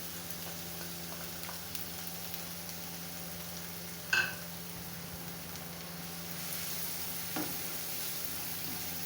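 Ground onions and green chilies sizzle steadily in a hot pan, a continuous soft frying hiss with one brief utensil clink partway through and no talk.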